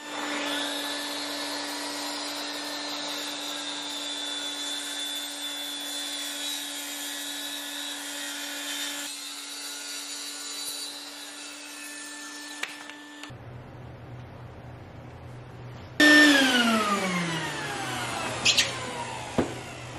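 A powered saw runs through a thick wood slab with a steady high whine and a constant tonal hum, then cuts out briefly before another higher-pitched, rising motor whir starts, close and loud with no speech.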